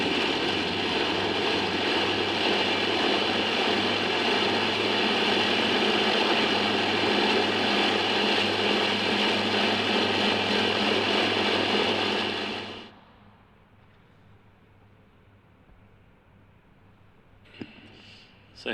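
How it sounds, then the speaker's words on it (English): Four Rolls-Royce Merlin engines of a Lancaster bomber run together in a loud, steady droning roar, then cut off abruptly, leaving near quiet with a faint clatter afterward. "the music of 4 Rolls-Royce Merlin engines"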